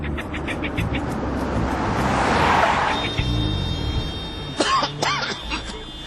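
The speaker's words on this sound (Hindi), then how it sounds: "इतना ट्रैफिक" Busy city road traffic near a flyover, with a car swelling past close by, engines rumbling and horns sounding near the end, with no voices.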